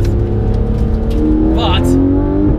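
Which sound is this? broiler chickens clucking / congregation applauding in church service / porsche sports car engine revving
porsche sports car engine revving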